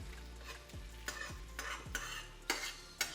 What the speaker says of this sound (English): So my eggs are cooking pretty easily.